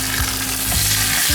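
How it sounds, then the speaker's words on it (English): Curry leaves and dry chilies fry in hot oil in a pan for a dal tempering, a loud dense sizzle with light stirring, alone and close. "Now I am adding the curry leaves."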